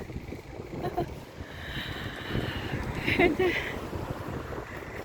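Wind gusts buffet the microphone outdoors among trees in Walsall, England, a low rumbling rush under a person talking.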